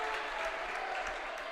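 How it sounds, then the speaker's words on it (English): Crowd noise at a high school boys basketball game between Moorhead and Fergus Falls, a steady, dense roar of cheering and applause filling the gym throughout. "It's great to hear the crowd noise."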